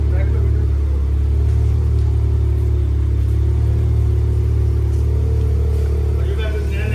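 A car driven up for loading idles and creeps forward with a constant low engine rumble and mild revving, fairly close, with faint voices in the background.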